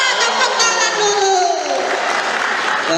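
A school audience at a Ramadan event in Palembang bursts into loud, continuous applause and cheering, with shouting voices over the clapping for the full three seconds.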